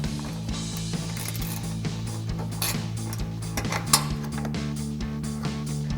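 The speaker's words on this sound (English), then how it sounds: "I'm using a 1/4" ratchet with an 8mm socket. So just slide that in, start loosening it up." A 1/4-inch ratchet with an 8mm socket loosens a bolt on a 2015-2025 EcoBoost Ford F-150 intercooler install, clicking in a steady fast rhythm, close and clear, over a low steady hum.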